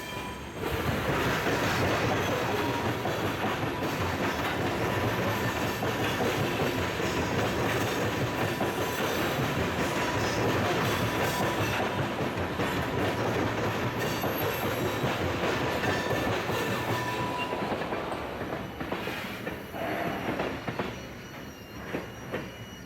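A long freight train rolls past Durand Union Station at night, a loud, continuous rumble of wheels and wagons with rail squeal and rhythmic clatter that holds steady before thinning out near the end.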